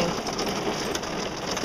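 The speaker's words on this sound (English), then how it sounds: "It's pretty good size hail. Probably about a quarter size, I guess. But it's melting quick because of the rain." Quarter-size hail falls with rain during a storm under a tornado warning, a loud dense patter of hits on surfaces with scattered sharper impacts, steady throughout and without talk.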